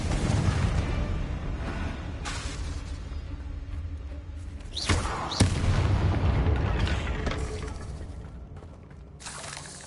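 The Confringo blasting spell in Hogwarts Legacy gives off booming blasts over a rumbling game soundscape, with sharp explosive cracks near the middle and a fresh burst at the end.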